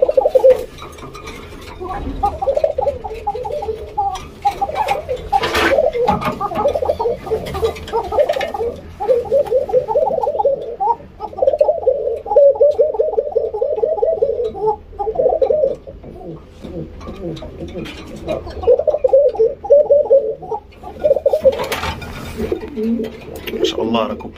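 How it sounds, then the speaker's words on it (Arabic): Laughing doves coo close by in soft, repeated rolling phrases that keep returning throughout, with faint background voices. "الحمام الضحاك الجميل"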